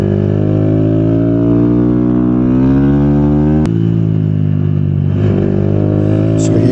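Honda Grom motorcycle engine during a six-hour endurance race, a loud steady drone with rising harmonics as it accelerates, a brief shift at mid-clip, then pulling again, continuous throughout.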